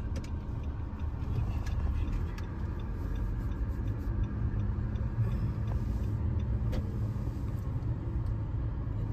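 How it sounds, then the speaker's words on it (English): A car drives slowly around an outlet mall parking lot, a steady low engine and road rumble from inside the cabin with faint ticking, continuous and fairly even with no talking. "we're just driving around, showing you"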